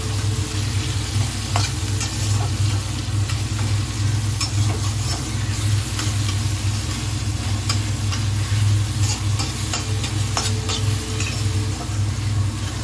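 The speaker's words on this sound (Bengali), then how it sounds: "টমেটো দিয়ে একটু নেড়ে চেড়ে নেব।" Tomatoes and spices are stirred in a frying pan, with a steady sizzle of frying throughout and occasional scraping strokes of the spatula against the pan, loud and close, with no talking.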